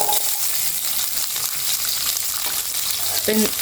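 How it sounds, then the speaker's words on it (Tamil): Chopped small onions fry in oil with mustard and fenugreek for brinjal thokku, a dense, steady sizzle heard close up throughout, with a brief clink near the end and no talk. "ஒரு பத்துலேருந்து பதினஞ்சு சின்ன வெங்காயம் கட் பண்ணி எடுத்து வச்சுருக்கேன் இப்போ இதில் ஆட் பண்ணிக்கிறேன்"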